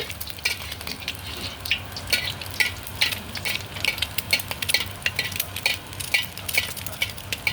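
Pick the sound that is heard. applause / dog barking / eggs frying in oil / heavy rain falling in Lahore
eggs frying in oil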